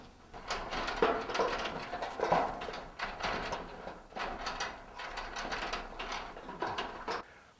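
Vice grips ratcheting and clamping onto a rusted garage door bolt during a bottom seal replacement, a series of close, repeated mechanical clicks and scrapes for several seconds with no voices.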